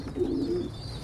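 Young pigeons coo softly in a loft, a single short throaty coo close by against a quiet background.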